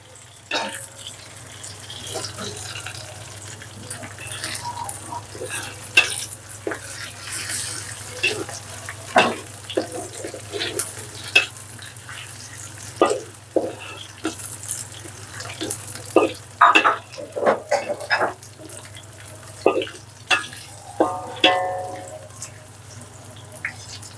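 Chopped onions sizzle in a pan for an Acehnese beef curry, with blended spices ready to add: a steady low crackle overlaid by irregular sharp pops and spatters, some loud, occurring close and alone without talking.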